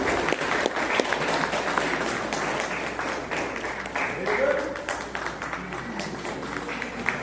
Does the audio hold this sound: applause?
yes